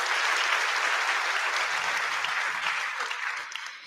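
Audience at a TEDx talk on medical training for LGBTQIA+ care breaking into applause, a dense wash of many hands clapping that stays strong and then tapers slightly toward the end.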